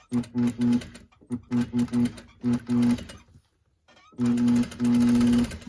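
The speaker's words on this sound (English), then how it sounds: "now I'm going to top stitch. I use like 1 millimeter distance from the stitch line." A sewing machine topstitches a blouse collar about 1 mm from the seam line, running in a series of short, rapid bursts with brief pauses between, then a longer steady run after a quiet gap; close and clear, with no talk.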